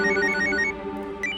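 A telephone ringtone plays loud and close in a repeating electronic pattern, fading partway through and returning briefly near the end, with no talking over it.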